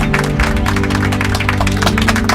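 An audience claps at a Kannada stage show, a dense continuous patter of many hands that stays loud and even throughout.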